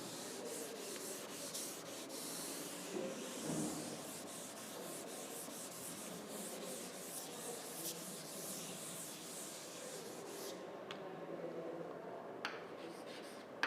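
Steady dry rubbing of an eraser across a board, a continuous soft scrubbing that runs on with small variations and no talk.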